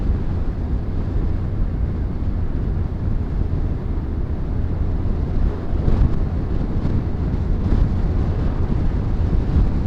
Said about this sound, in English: Wind is getting up a little bit